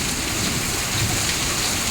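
A heavy hailstorm mixed with rain pounds down outdoors in a garden, a dense unbroken roar of hailstones and rain hitting surfaces at close range.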